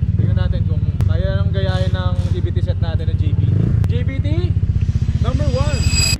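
A Honda ADV 160 scooter with a remapped engine and CVT parts runs on a dyno, a loud steady mid-pitched engine drone throughout, with people talking over it.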